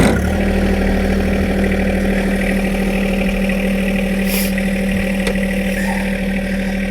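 A John Deere 260B backhoe engine runs close by with a steady, loud diesel idle, a constant low hum and drone, and a few faint clicks and knocks over the top.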